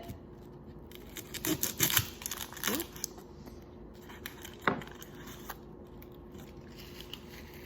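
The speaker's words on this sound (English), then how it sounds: "we're just gonna go ahead and peel our shallot" Shallot peeled by hand, giving soft papery crinkles and small tearing crackles in a few brief bursts, close and fairly quiet, with a low steady hum underneath.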